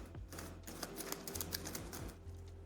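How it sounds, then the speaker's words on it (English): A deck of cards is shuffled by hand on a tabletop during a Paperback card game, producing quiet, rapid papery clicks and riffles in short bursts, close and soft with no talk over it. "we're going to shuffle those into the solo enemy deck"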